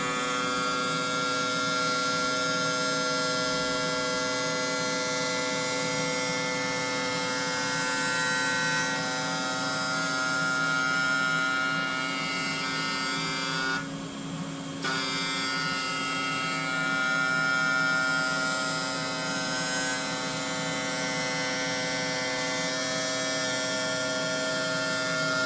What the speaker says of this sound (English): When it's done with the sharpening, it turns green to let you know it's complete